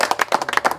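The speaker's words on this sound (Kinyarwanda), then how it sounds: "mubaha amashyi cyane" An audience at a Rwandan comedy show clapping, a quick burst of sharp, close hand claps in rapid irregular rhythm, brief and alone.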